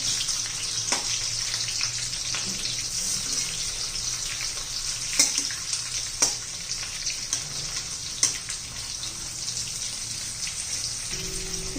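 Stuffed bitter gourd shallow-frying in hot oil as the pieces are turned on all sides. A steady, close sizzle runs throughout, broken by a few sharp pops and crackles, with no talking.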